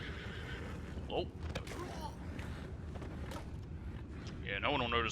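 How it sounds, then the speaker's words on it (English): A spooked horse in Red Dead Redemption 2 lets out a sharp neigh near the end, heard over constant game ambience and low rumbling, with brief creaks and thuds along the way. "no one will notice the horse is getting spooked like that"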